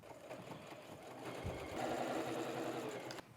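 A sewing machine runs steadily along the long edge of a fabric tote bag, a close, even mechanical whir that stops abruptly at the end.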